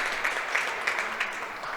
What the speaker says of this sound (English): As you hear the Crestview squad claps for